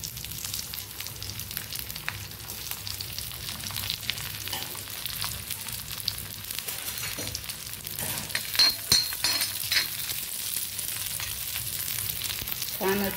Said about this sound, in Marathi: पहिलं लसूण आणि आलं याच्यात भाजून घेते।